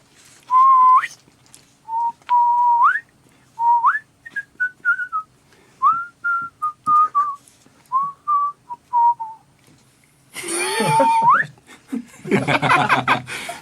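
A person whistles a tune in clear, bright phrases with short pauses between, followed by a burst of louder noisy sound near the end.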